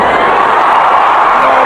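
Cricket stadium crowd at an IPL match between RR and SRH roaring in a steady, dense wall of cheering and shouting, loud and close throughout the short stretch with no break.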